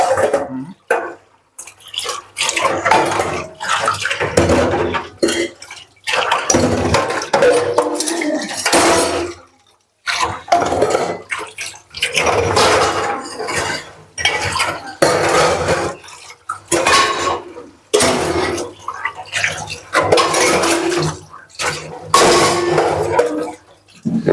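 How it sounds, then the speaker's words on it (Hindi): Dishes being washed by hand under running water, with pots and cutlery clattering and knocking in bursts against a steady stream of water, close and fairly loud, broken by short pauses. "एक बर्तन धो दीजिए"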